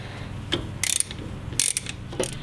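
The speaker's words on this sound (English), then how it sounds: "Once it's in there hand tight, grab your ratchet and tighten this up." A hand ratchet tightens a bolt on a coilover strut during a suspension install, giving several short bursts of sharp metallic clicking, close and clear, with no talk.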